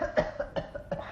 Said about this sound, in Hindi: कौन बुढ़ा लगातार खांस कर मुझे डिस्टर्ब कर रहा है